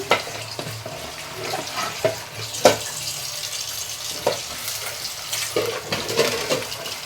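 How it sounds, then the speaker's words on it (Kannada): Sprouted pulses are tipped into a pan and fry with a continuous sizzle, broken by irregular clinks and scrapes from stirring, with no voices. "ಈಗ ಕಾಳು ಹಾಕ್ತಾ ಇದ್ದೀನಿ"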